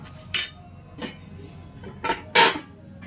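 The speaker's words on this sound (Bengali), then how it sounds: "সামান্য একটু নুন দিয়ে নাড়াচাড়া করে এটাকে ঢাকা দিয়ে দিলাম" A metal lid set onto a pot of spinach boiling with a little salt, giving a few short clinks and clatters spread over a few seconds, the loudest near the end, over a low steady background hum.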